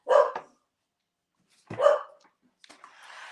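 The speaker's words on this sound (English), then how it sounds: "the dogs are barking because, like I said, they can see that thing coming up over the fence" Dogs bark in two separate bursts with a long gap between them, loud and close, followed by fainter scattered rustling and noise.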